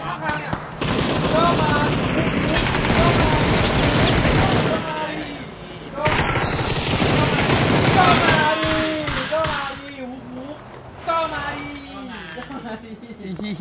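Rapid automatic gunfire in the PUBG battle game, long loud bursts broken by short pauses, with excited voices talking and shouting over the shots.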